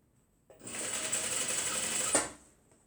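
A sewing machine runs steadily for about two seconds while stitching a tote bag for the beach, close and fairly loud, starting and stopping cleanly with a small clunk near the end.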